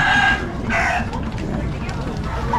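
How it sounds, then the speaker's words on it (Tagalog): Chickens for sale at a busy Tacloban market cluck and crow close by, with a rooster-like call rising over the crowd murmur and people chatting nearby. "may nagbebenta doon ng mga manok"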